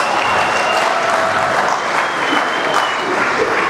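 At a stake variety show, an audience claps steadily for a performing group, a full, loud wash of many hands that holds evenly throughout with no talking.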